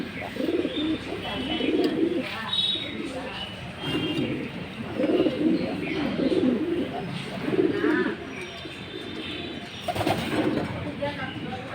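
Racing pigeons in a loft in Tangail coo in repeated rolling bursts, close and clear, while someone talks over them.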